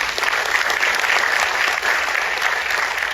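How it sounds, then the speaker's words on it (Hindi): A crowd at a corporate training gathering bursts into loud, dense applause, a sustained roar of many hands clapping together close by with no pauses. "एक बार आपके लिए ताली बजवा दें।"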